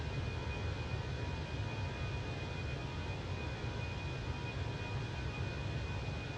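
A group of aircraft flying overhead, heard as a steady, distant broadband roar with a faint high whine, continuous and even without rising or fading.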